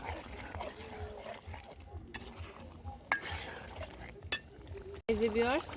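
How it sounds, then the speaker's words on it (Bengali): Meat being stirred and fried with spices in a pan, a steady sizzle with scraping stir strokes throughout, close and moderately loud, with a sharp scrape near the end. "মশলার সাথে এই যে মাংসগুলা ভালো করে কষিয়ে নিচ্ছি দেখতেছেন"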